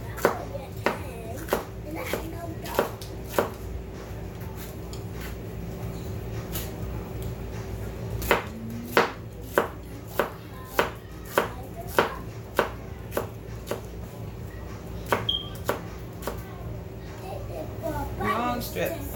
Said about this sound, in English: I'm going to do some of my onions the same way.